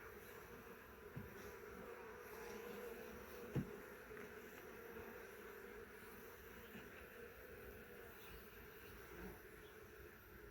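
Honey bees buzzing steadily around an open hive during the first inspection of the season, a low continuous drone with a few nearby passes, fairly faint and without talk.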